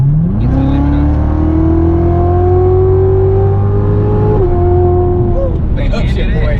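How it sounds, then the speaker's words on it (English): A sports car's engine revs steadily upward toward redline, then drops briefly as it upshifts into the next gear, loud and close throughout, with people talking over it. "the upshift like when you hit it and you let it hit red line and upshift into that gear, it sounds angry"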